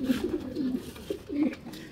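A racing pigeon coos nearby in soft, throaty, repeated low calls with short pauses between them.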